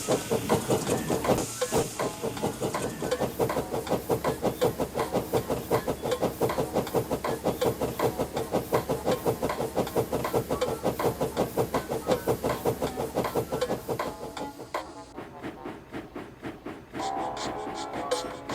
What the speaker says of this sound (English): Henry puffed down the line, dropping off all the goods from his train, James's train, and Gordon's express train.